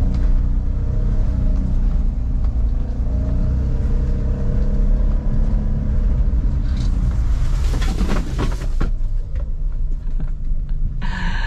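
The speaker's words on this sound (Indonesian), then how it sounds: "saya tambah gas secara tiba-tiba" A car's engine surges as the gas is pressed suddenly on a slippery, soft road, a heavy, continuous rumble with a rougher burst of spinning noise late on, close and loud throughout.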